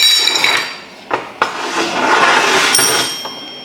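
Metal parts clink and tap while bushings are worked out of 1967–68 Ford Mustang door hinges, with a few sharp knocks over a scraping, rattling background.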